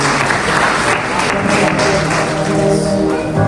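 Audience applause welcoming a pastor at an engagement ceremony, a dense steady wash of clapping hands filling the room for several seconds at full strength.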